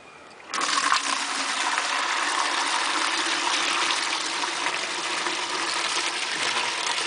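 Water gushes and swirls steadily as it drains through a basin in an equator demonstration, a continuous rushing flow starting abruptly after a brief quiet moment and holding loud and close throughout.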